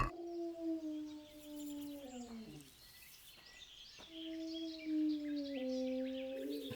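A dog howls in a video game, two long wavering howls with a short pause between them, fairly faint against a quiet background.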